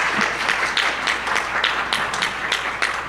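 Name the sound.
audience cheering and applause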